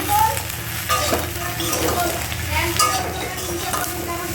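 Chili and turmeric frying in a hot pan while being stirred, with a steady close sizzle and repeated scraping strokes of a spoon against the metal.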